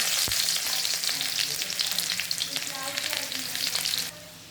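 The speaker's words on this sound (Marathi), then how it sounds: "फोडणीला कांदे टाकते" Onions frying in tempering oil for Marathi adu-leaf vadi, a steady close sizzle that runs loud and unbroken for about four seconds, with a sharp tap near the start, then drops away abruptly.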